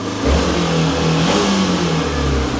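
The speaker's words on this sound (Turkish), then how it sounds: "Şimdi bir daha çalıştıracağım. Hem bu sefer sesini dinlemiş olalım motorun." A close Hero XPulse 200 motorcycle engine revving steadily and loudly, with a low rumbling drone and rising tone, alone without voices.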